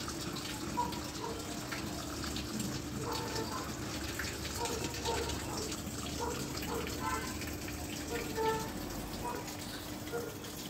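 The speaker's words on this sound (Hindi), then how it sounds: "तो मशीन ने पानी लेना शुरू कर दिया।" An LG washing machine with a leak fills with water during its wash program, a steady broadband rushing hiss of inflow running continuously and fairly loud throughout, with a faint low hum beneath.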